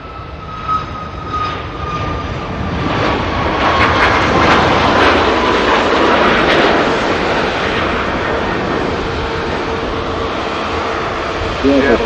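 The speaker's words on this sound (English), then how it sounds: "Sun Express on a departure to Dalaman." SunExpress airliner departing for Dalaman, its jet engines building from a whine into a loud, sustained takeoff roar that peaks midway and holds steady, with a tonal whine running underneath.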